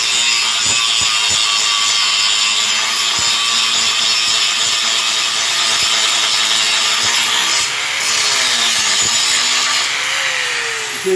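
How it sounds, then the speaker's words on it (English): An angle grinder works the ends of a 3/8-inch-thick steel plate, giving a steady, loud abrasive grinding whine with gritty rasping that holds throughout, no voices over it. "Grinding the ends, same thing."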